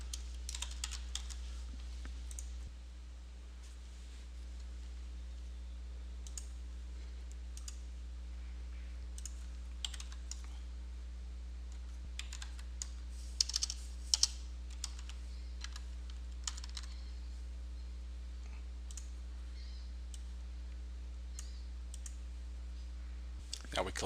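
Close computer keyboard typing as a kit number is entered: a sparse run of light key clicks over a steady low electrical hum, with a few louder taps scattered throughout.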